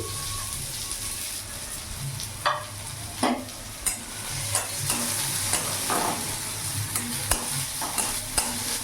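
Chopped onion, one large onion, sizzles steadily in oil in a pan, with a utensil scraping and stirring at irregular intervals, close and fairly loud with no talk.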